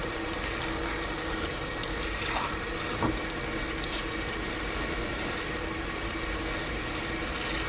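Steady water spray rinses support material off a part printed on a Stratasys J5, a constant hiss of running water at even level throughout with no talking.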